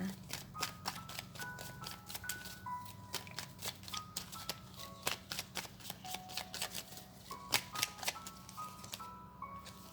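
Tarot cards being shuffled and drawn by hand, a quick run of crisp riffling clicks and slaps in an irregular rhythm, close and fairly quiet, with soft chiming background music.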